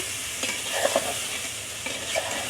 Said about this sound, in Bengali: এখন একটু ঢেকে দিব, আবার একটু নাড়া দিয়ে দিব।